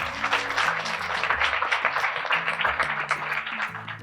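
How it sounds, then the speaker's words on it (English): A workshop audience gives a warm round of applause for a panel discussion on youth visions for the bioeconomy: a thick, continuous wash of many hands clapping, fairly loud, with a low steady hum or music beneath. "a warm applause for all our panelists and also for the audience."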